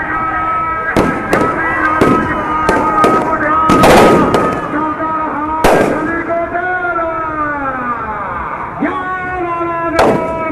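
Fireworks and firecrackers going off at a bull race, a series of sharp loud bangs and cracks, some clustered, over a constant drone of pipe-like music and crowd noise.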